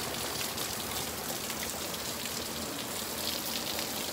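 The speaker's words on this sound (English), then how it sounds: "raining and it's raining so hard" Heavy rain in Canada in August pours steadily, a dense continuous hiss of water falling all around with no voices.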